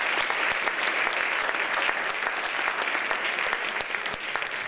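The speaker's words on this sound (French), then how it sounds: "Je vais vous demander de les applaudir maintenant pour leur donner du courage." An audience in a school performance setting applauds two classes of students to encourage them. The clapping is brisk, close and sustained throughout, with sharp individual claps standing out.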